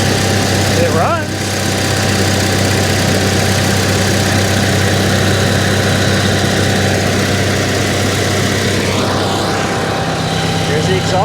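The engine of a Breaking Bad replica RV, bought cheap at auction as a non-runner, idles loud and close in a steady low drone. A brief voice is heard near the start.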